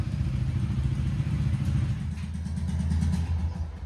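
A Royal Enfield Hunter 350 motorcycle with its exhaust silencer removed idles and revs up close, a heavy, loud, throbbing low exhaust note with rapid pulsing, no talking over it.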